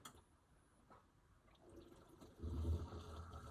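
Water pump on a winterized system drawing antifreeze through its lines, a low churning gurgle of liquid that swells from faint to louder and steadier partway through, with no talk.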